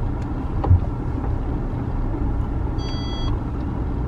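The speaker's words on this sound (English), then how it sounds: "Car is parking itself." A Nissan Qashqai parks itself with an idling engine rumble inside the cabin, and a short series of high reversing beeps sounds partway through, with no voices.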